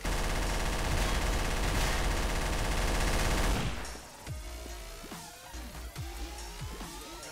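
Sustained rapid automatic gunfire in Garry's Mod, a loud dense burst for about four seconds, then scattered single shots and clanks in the game.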